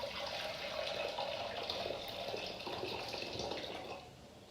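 Pre-boiled water poured into a cooking pot for pasta, a soft continuous splashing and trickling stream, faint and steady before easing off at the end.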